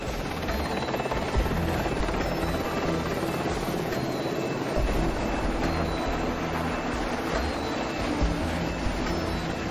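A Sea King helicopter taking off from HMS Ark Royal, its engine and rotor roaring loudly and steadily throughout, a dense, unbroken mechanical drone.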